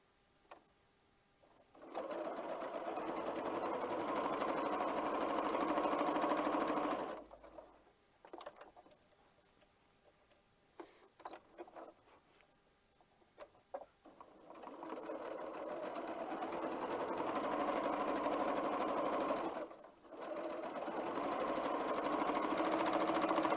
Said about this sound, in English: I'm bringing it to the machine, and I am going to stitch a scant 1/4 inch on both sides of that diagonal line